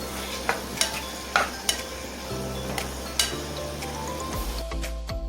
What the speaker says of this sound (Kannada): ಟೊಮೊಟೊ ಚೆನ್ನಾಗಿ ಫ್ರೈ ಆಗೋವರೆಗೂ ಬೇಯಿಸ್ಕೊಳ್ಳಿ